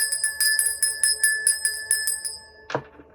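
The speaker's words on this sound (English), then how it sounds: "I'm going to ring the bell. I'm ringing it." A small bell rings about ten times in a quick, even rhythm, its bright metallic tones layered and sustained, then fades as a short soft thump ends the sequence.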